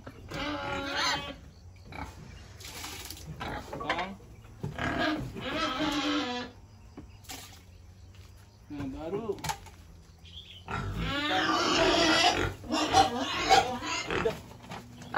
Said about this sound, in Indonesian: Oh, babi-babinya udah gak sabar ini.